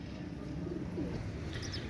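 Imported Pakistani bloodline pigeons coo softly and briefly, a faint low throaty burble against quiet background hiss, with a short chirp near the end.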